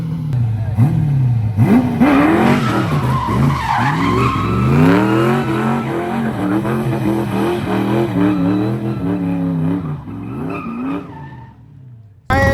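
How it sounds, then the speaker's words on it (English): Drag car doing a burnout at a drag racing event, tires squealing and skidding loudly with a revving engine roar throughout, cutting off abruptly near the end. "Melting those tires."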